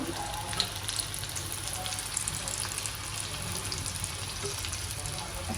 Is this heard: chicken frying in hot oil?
yes